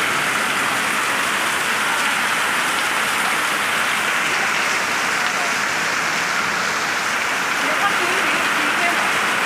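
Steady, loud rain pours down in a continuous even hiss at an outdoor medical camp, with no breaks for the whole stretch.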